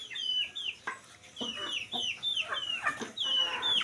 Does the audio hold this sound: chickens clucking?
yes